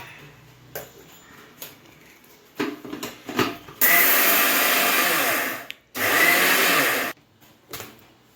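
A kitchen mixer grinder whirs loudly as it grinds sesame chutney with cumin and salt, running in two long sustained bursts separated by a short pause, with some handling clatter before it starts.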